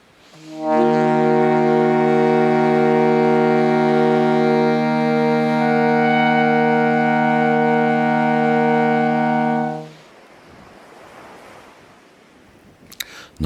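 Two sustained tones sound together for about nine seconds as a just-intonation minor third from the 19th harmonic, steady and bright with rich overtones, before cutting off into quiet room noise.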